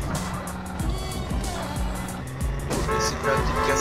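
A car drives in Grand Theft Auto, with a steady engine drone, repeated low thumps and a few horn-like toots that play on without any talking.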